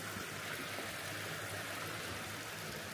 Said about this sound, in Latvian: Strautiņš, upīte,